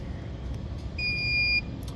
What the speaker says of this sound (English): wait for the machine to beep twice